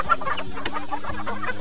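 Farm hens cluck in short, low, throaty bursts, several overlapping calls at moderate volume with no other sounds or voices.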